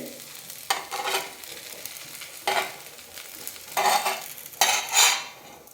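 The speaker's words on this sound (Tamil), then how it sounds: "இதே மாதிரி அடுத்த தோசையையும் நம்ம ஊற்றிக்கலாம்" Dosa batter, a carrot dosa mixture, spread on a hot pan, with bursts of crackling sizzle and scraping that come and go in several waves, close and fairly loud, with no talking.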